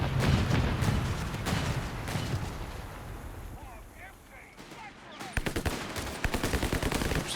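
Repeated booming artillery and gunfire rolling through a Company of Heroes 3 multiplayer match, dense and loud at the start, thinning mid-clip, then a fresh burst of sharp impacts near the end, all under continuous commentary.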